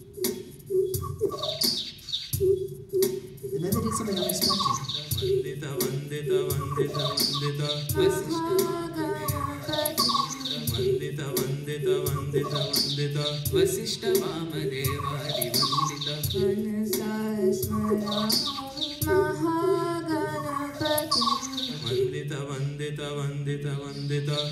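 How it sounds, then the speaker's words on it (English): Bird songs recorded in Bangalore, India, layered into a live DJ performance: continuous chirps and tweets over a steady electronic beat and bass, loud and dense throughout, with a brief spoken line near the start. "So these are the bird songs we recorded in Bangalore"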